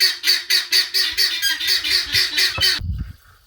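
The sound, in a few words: guineafowl calling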